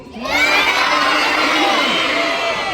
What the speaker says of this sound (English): I want you to be yelling as loud as you can